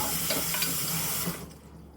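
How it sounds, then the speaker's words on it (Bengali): Running tap water streams steadily over a pan being washed in a home kitchen sink, a continuous close hiss with a few clanks of metal before the flow cuts off near the end. "প্যানটাকে একটু ধুয়ে নিলাম।"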